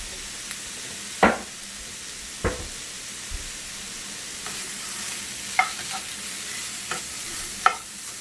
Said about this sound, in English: you want to stir up our pasta. Make sure the pasta is cooking, which it is